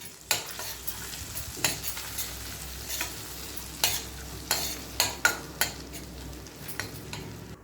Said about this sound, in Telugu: బటర్ కరిగిన తర్వాత 1 టీ స్పూన్ జీలకర్ర వేసుకొని వేపాలండి.